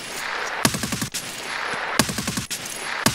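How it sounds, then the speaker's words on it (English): A PKP machine gun fires in Escape from Tarkov, three sharp bursts of rapid, rattling shots roughly a second apart, loud and close, with no talking. "Chill with the PKP for a second."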